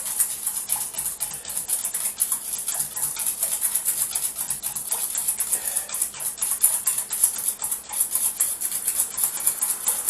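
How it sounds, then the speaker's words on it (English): Mint sauce ingredients are whisked until dissolved, giving a rapid, continuous, rhythmic scratchy swishing that stays close and steady throughout. "And you whisk this until everything's dissolved."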